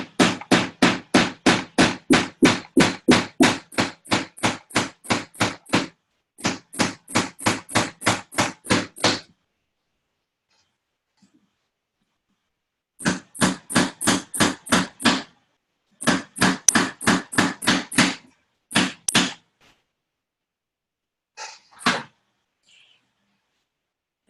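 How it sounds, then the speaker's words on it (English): Desk organizer pieces being tapped together with a hammer after gluing: long runs of quick, evenly spaced sharp taps come in several bursts, separated by short pauses and one longer silence. "Get the hammer out."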